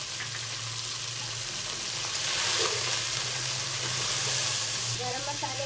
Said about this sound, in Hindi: गरम मसाले के साथ अदरक लहसुन के साथ हम 5 मिनट के लिए गोश्त को फ्राई करेंगे ढक के।